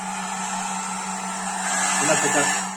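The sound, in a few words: hair dryer drying paint on a figure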